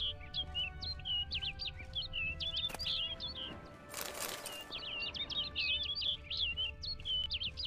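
Birdsong in The Witcher 3 video game: a small bird's repeated bright chirps and tweets over a low ambient hum, with a brief burst of flapping wings midway before the chirping resumes.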